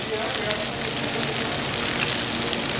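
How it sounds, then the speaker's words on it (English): Lobster tails sizzle steadily on a Camp Chef camp stove, a dense, continuous frying hiss that stays loud and close throughout with no pauses. "Our trusty camp chef cooking off here."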